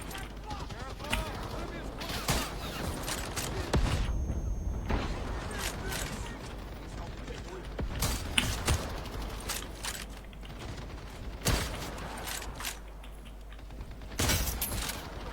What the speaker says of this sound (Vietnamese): súng gì bắn mạnh thế?